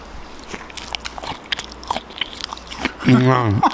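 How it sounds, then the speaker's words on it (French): A crunchy mouthful of Taco Bell or KFC fast food is bitten and chewed right at the microphone, giving a string of close, sharp crunches, followed by a voice speaking near the end. "je vais aller manger ma prochaine bouchée proche du micro"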